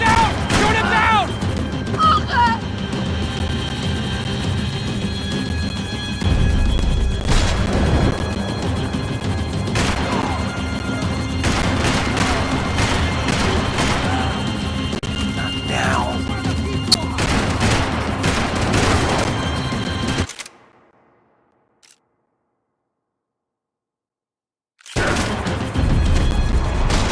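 Rapid bursts of gunfire and crashing impacts fill a chaotic Max Payne 3 action scene, mixed with shouting voices and engine noise, before cutting to a few seconds of silence and then resuming.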